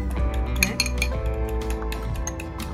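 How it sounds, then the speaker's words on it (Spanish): Eggs are beaten in a bowl for torrijas, giving quick, repeated clinks and taps of utensil against the bowl, close and continuous. "vamos a batir los huevos"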